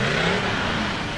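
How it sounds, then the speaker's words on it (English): A rollback tow truck rolling along in a small-town Christmas parade, its mid-range engine rumbling steadily and close for a brief moment. "Here's another Dnr Towing truck."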